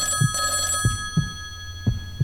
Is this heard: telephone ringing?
yes